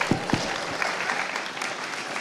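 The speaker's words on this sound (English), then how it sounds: "Let's give him a round of applause." Audience applause at a high school spoken word event, a dense, even wash of many hands clapping at moderate distance, with a couple of louder nearby claps at the start and no pause throughout.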